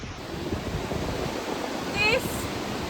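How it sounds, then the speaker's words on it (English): Sweden's highest waterfall roars close by in stormy weather as a steady, loud rush of water. Wind buffets the microphone, and a brief rising whistle cuts through near the end. "This happens when you go close to this waterfall."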